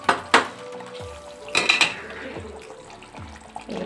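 A spoon scrapes and clanks against a pan of cooked Andhra-style egg pulusu curry, stirring it on a stove with several sharp metallic knocks and rattles that stand out loudly at close range.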